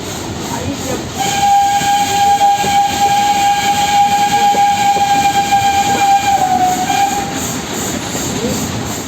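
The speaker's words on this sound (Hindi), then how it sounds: "नीलगिरी माउंटेन रेलवे के स्टीम इंजन की सिग्नेचर सिटी की आवाज़ आपके कानों तक पहुंचेगी" A long, loud whistle from a Nilgiri Mountain Railway steam locomotive blows for several seconds over rumbling train noise, then cuts off.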